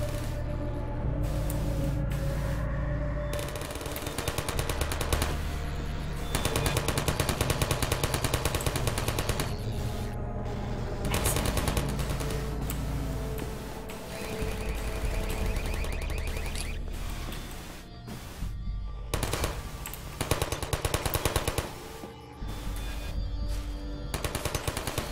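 Sustained automatic turret gunfire in Half-Life 2, dense rapid rattling that runs almost continuously for the whole stretch, with brief gaps, mixed with game effects and combat noise.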